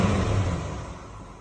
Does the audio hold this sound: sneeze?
no